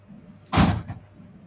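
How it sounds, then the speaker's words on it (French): A door slams shut from a draught, a single sharp bang with a brief rattling tail, standing out against a quiet room. "les courants d'air ont fait claquer la porte"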